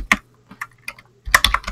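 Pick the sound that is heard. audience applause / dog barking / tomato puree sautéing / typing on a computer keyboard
typing on a computer keyboard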